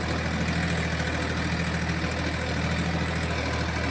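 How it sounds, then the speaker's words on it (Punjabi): A tractor engine runs steadily out in the field during preparation for wheat sowing, giving a loud, continuous low rumble with no breaks or voices. "ਹੁਣ 2 ਘੰਟੇ ਟਰੈਕਟਰ ਚੱਲੂ"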